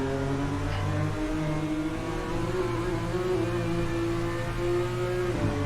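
A BMW M2 race car accelerates on a circuit, its engine climbing steadily in pitch through the gears, loud and close with an onboard feel, then dropping sharply at the end.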